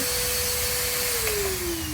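A TriStar MG1 canister vacuum cleaner runs steadily and loudly close by, a constant motor whine and rushing airflow whose pitch slowly drops near the end, with no talking.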